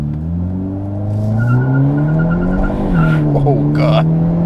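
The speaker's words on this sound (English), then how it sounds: "I guess I did the launch control correctly" A 2023 Hyundai Elantra N turbo compact sedan makes a launch control start, the engine note climbing through revs with brief tire squeal. A voice talks over it from inside the cabin.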